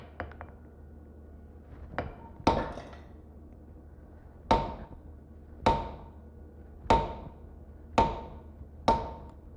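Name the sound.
blacksmith hammering hot metal with a fuller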